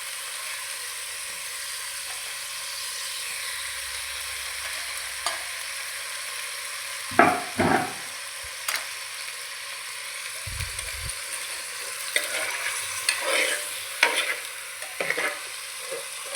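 Soft, steady sizzle of a mackerel dish frying in a pan over a low flame, with occasional clinks and scrapes of a spatula stirring, close and fairly quiet.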